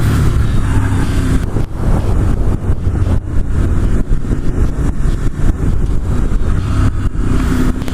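A 2019 Ducati Monster motorcycle engine pulling under throttle, a loud, continuous low roar heavily mixed with wind buffeting on the microphone, sustained throughout with no clear pauses and no voices.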